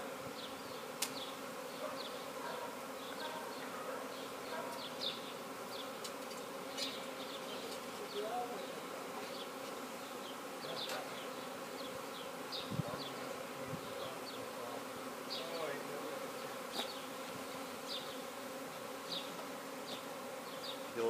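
A swarm of bees being captured into a new hive box gives a steady, dense buzz, with individual insects droning close by now and then over a continuous background hum.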